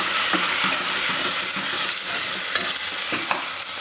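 Red chilli powder and coriander-cumin powder are stirred into a sizzling curry in a pan, giving loud, close, continuous frying hiss. Soft rhythmic spoon scrapes come about every half second, and no one talks.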